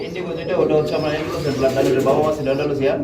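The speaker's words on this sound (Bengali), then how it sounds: "এটাও আমেরিকান ফ্যান্ডেল কবুতর" Soft cooing of American fantail pigeons murmurs through the clip, partly masked by a person talking nearby.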